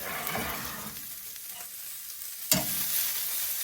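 Mustard greens sizzle and crackle in a hot pan as they are stirred, with a louder hiss at the start that eases down, then a sharp scrape and renewed frying sizzle near the end.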